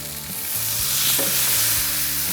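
Rubia Gallega heritage steaks sear in a hot pan, a loud, close, continuous sizzle and crackle of frying fat with no voices.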